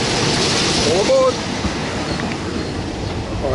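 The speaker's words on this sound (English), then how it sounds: "so the train's taken off" Nam Tok passenger train pulling away, a steady broadband rumble of rolling carriages with a brief squealing wheel or brake tone partway through, close and continuous under faint background voices.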